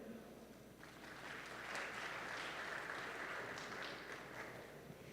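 Faint, distant applause from a conference audience in a large hall, clapping swelling after the first second and holding as a steady wash of many hands for several seconds.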